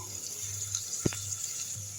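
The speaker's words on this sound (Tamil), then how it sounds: "பச்சை தண்ணி ஊற்றி ஒரு முறை கழுவிடுங்க" Tap water runs steadily as cauliflower is rinsed under it in a kitchen, a continuous hiss of flowing water with a brief splash near the middle.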